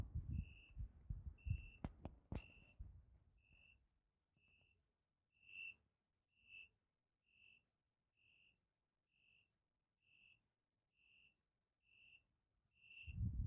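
A cricket chirps on a high-rise apartment balcony during a Japanese summer, giving steady, evenly spaced high chirps after a brief burst of louder clatter and low rumble at the start, with a thump at the end.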